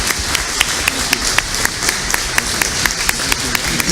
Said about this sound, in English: if we could give this group a round of applause